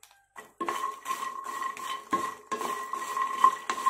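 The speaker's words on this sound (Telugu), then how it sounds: "ఇలా కలుపుతూ ఫ్రై చేసుకోవాలి" A spoon scraping and clinking against a pan while stirring phool makhana (fox nuts) frying in a little oil, steady repeated metallic strokes, close and fairly loud with no talk.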